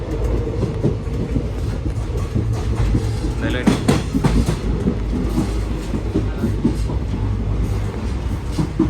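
A nearly empty passenger train runs on rails near the Munabao border area of India, with a loud, continuous low rumble and clattering wheel noise throughout while a person speaks briefly.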